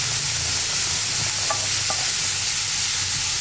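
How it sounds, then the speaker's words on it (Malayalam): Beetroot frying in a pan sizzles steadily while being stirred, with a couple of brief scraping clinks partway through and no voices. "ബീട്രൂട്ടും കൂടി ചേർത്തിട്ട് നന്നായിട്ടൊന്ന് ഇളക്കി കൊടുക്കുക"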